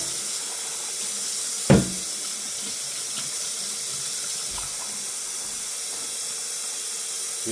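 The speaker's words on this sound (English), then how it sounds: "we're gonna go ahead and add some more hot water" Hot water poured into a cooking pot of pig feet, a steady faucet-like hiss and trickle running continuously at moderate level, with a brief knock near the start.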